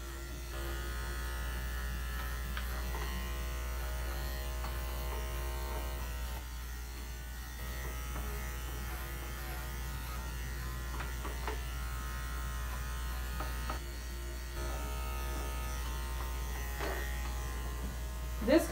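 Electric grooming clippers shaving coarse, needle-like hair on a dog, a steady close mechanical buzz and hum running throughout with slight changes in pitch as the blade moves, with quiet speech at times underneath.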